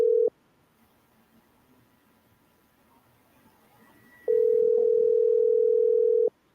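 A telephone line tone comes through on a call to a radio station. A steady tone cuts off quickly, low hiss follows, then the same steady tone returns for about two seconds with slight breaks.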